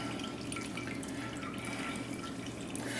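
Water trickles and drips steadily as cooked spinach is wrung out in a dish towel for a keto pizza crust, a faint continuous patter close by.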